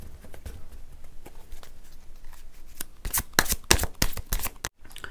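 Tarot cards being shuffled close by, soft riffling flicks that build into a louder, rapid burst of card slaps near the end before a brief stop, with no talking.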